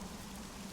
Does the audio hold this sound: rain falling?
yes